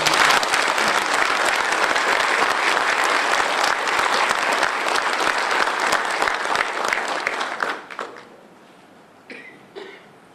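A large audience applauds loudly at the opening ceremony of the 8th Head of Mission meeting, with sustained dense clapping that thins out and fades into scattered claps near the end.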